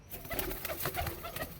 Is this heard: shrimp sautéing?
no